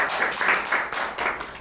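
Applause from a live audience at an MIT Media Lab talk, a dense steady patter of many hands clapping together at close range, lasting under two seconds with no voices over it.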